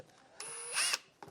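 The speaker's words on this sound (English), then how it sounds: "I am going to use a brand new 1 Plus HP Ryobi brushless drill." A Ryobi One+ HP brushless cordless drill whirs briefly at high speed, revving up with a bright whine before stopping, close and clear.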